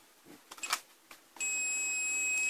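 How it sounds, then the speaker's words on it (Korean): A multimeter set to continuity mode gives a steady, sustained high beep as its probes touch across a good fuse during electronics repair, following a few faint clicks and handling noises. "삐 소리 난다는 경우는 철사가 이어졌기 때문에 끊어지지 않았다"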